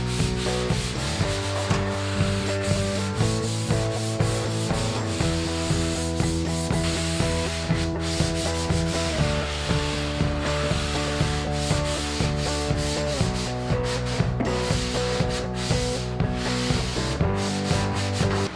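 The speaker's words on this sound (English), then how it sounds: "I'm using an angled sponge sander, and this just allows me to get a tight, clean line between the wall and the ceiling." An angled sponge sander rubs drywall mud along the top edge of a wall where it meets the ceiling, steady rhythmic scraping strokes repeating close up with no talk.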